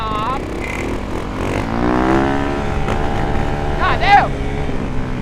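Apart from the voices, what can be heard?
Yamaha YZ dirt bike engine revving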